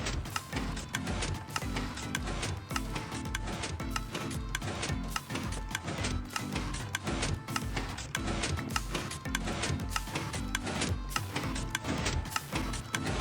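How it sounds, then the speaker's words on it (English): Minecraft pistons in a Skyblock kelp farm push and break kelp over and over, making a fast, dense run of clicking, clattering mechanical thuds with no talk. "see the piston's breaking the kelp"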